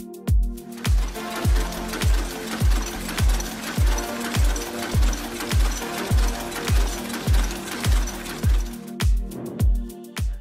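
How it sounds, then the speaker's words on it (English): A chain-making machine forms links piece by piece, pounding out a loud, regular mechanical rhythm of sharp clanking strikes roughly twice per second, steady and close. "this is how a machine makes a chain, piece by piece."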